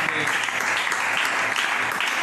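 Dense, continuous applause and cheering from a church congregation, loud and sustained for the whole stretch with no pause.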